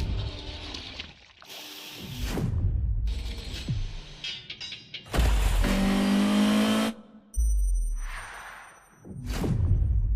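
A Ferrari GTO engine in The Crew Motorfest racing game, several separate bursts of revving and high-pitched acceleration with whooshing passes and gaps of quiet between them, loud and close.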